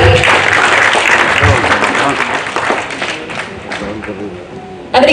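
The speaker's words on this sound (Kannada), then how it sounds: "ಜೋರಾದ ಚಪ್ಪಾಳೆ ಬರಲಿ." A crowd at a movie launch event applauds loudly and continuously, dense clapping with crowd noise that tapers slightly before a sharp burst near the end.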